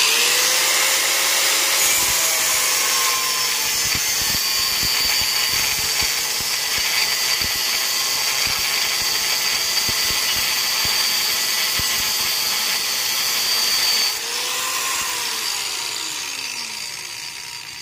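A power tool cutting through a screw on a motorcycle gear shifter, giving a loud, continuous high-pitched whine with grinding texture that holds steady for about fourteen seconds, then drops and winds down.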